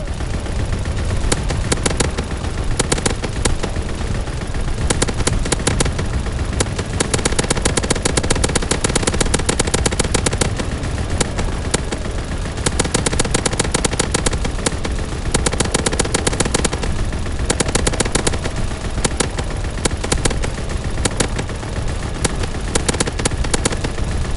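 Relentless automatic machine gun fire from an aircraft gunner killstreak in Call of Duty WW2, a dense, loud, unbroken rattle of rapid shots with explosions mixed in, continuing for the whole stretch without pause.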